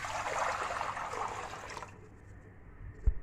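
About 1.5 kg of water poured into a pan in a home kitchen, a close, splashing gush for nearly two seconds that drops into a faint trickle, ending in a small knock.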